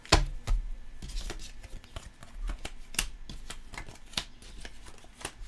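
Tarot cards shuffled and drawn by hand during a love-reading session, heard as a close run of sharp, papery snaps and riffles at an irregular, fairly quick rhythm, with soft rustling between them and no voices.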